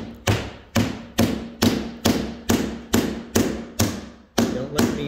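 Salvaged old nails are driven into wooden trim during restoration of a 1764 house, a steady series of about eleven sharp hammer blows, close and loud, each ringing briefly before the next, with no talking.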